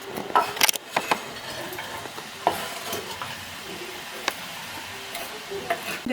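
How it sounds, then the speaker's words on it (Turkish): Chopped onion hitting a hot pan and sizzling steadily while being fried, with a few sharp clinks and stirring scrapes near the start and a continuous close hiss throughout. "Soğanı doğradım, xırdaladım. İndi tökürəm. Qızarmağa."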